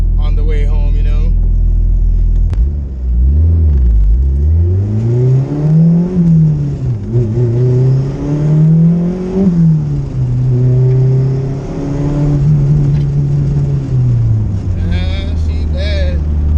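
A turbocharged Honda Civic with stock sleeves accelerating hard through repeated pulls, loud rising engine howl with gear-change dips and turbo whir, heard from inside the car, voices briefly at start and end.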